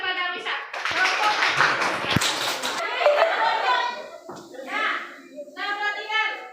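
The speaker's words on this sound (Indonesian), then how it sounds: "kasih aplaus kepada Misa" Pupils in a classroom applaud a student with a short, lively burst of many clapping hands, and then children's and a teacher's voices take over.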